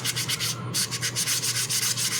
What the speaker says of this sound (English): I'm just going to go over the whole hair with the sanding stick and sponge